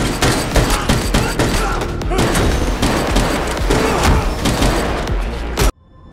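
A John Wick 4 film scene with dense, loud gunfire: rapid overlapping shots, booms and thuds fill nearly six seconds before cutting off abruptly.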